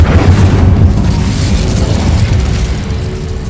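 Heavy fiery blast of the Incendio fire spell in the Hogwarts Legacy video game, a loud low boom at the start that rumbles and slowly fades out over a few seconds.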